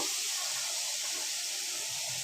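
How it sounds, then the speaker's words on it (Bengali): Taro stems are added to a pan of fried spice paste for a prawn and taro stem curry, raising a steady, close hiss of sizzling oil that holds evenly throughout with no voices. "মশলাটা কষানো হয়ে গেছে এখন লতিগুলো দিয়ে লতিটা কষায় দিব"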